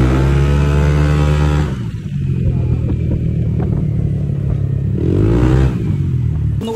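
Yamaha NMAX V2 scooter with an Aracer ECU, bolt-on setup, revs loudly and up close, the engine rising and dropping through throttle blips with a steady rumbling idle in between, no talk.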